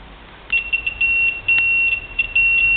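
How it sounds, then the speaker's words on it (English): A thin, high electronic beep from a continuity tester on a digital IC trainer kit, checking a wire, sounds steadily, broken into a few short chirps and longer tones, loud and close with no talk. "You get a beep sound."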